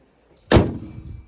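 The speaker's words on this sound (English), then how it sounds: "Look how nice that shuts" A single solid thud as the door of a 2007 Mercury Grand Marquis in showroom condition shuts, close and loud, with a short muffled decay afterward.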